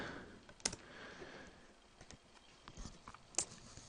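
A folder name is typed on a computer keyboard on a Windows PC, heard as faint, sparse key clicks and taps, with two sharper clicks that stand out in a quiet room.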